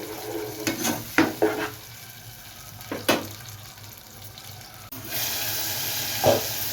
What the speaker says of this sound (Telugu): ఇందాక టూ ఆనియన్స్ పేస్ట్ చేసి పెట్టుకున్నాం కదా అది వేసుకుందాం పచ్చివాసన పోయే వరకు ఫ్రై చేయాలి